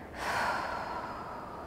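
Deep, steady exhaling breath during a prenatal and postnatal Pilates Reformer workout, a single long breathy rush lasting over a second, close and fairly soft with no talk over it.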